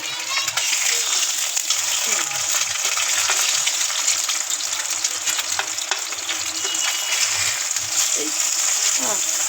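Egg frying in a pan while Spicy Noodles are being cooked, with a loud, steady sizzle and crackle that runs throughout and faint voices underneath.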